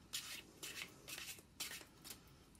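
Tarot cards shuffled and drawn in a quiet room: five or six soft, papery rubbing strokes in uneven succession, faint and close, with no voices.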